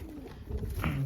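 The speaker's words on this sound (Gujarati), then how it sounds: "જો કબૂતર આવી ગયા અને આપણે દાણા બહુ પસંદ છે" Pigeons gathered to eat grain give low, soft cooing calls, close by and fairly quiet over faint background noise.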